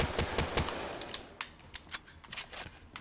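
Rapid volley of MX Garand rifle shots in Black Ops 3 multiplayer, sharp loud cracks fired in quick succession, then a few sparser shots as the action continues.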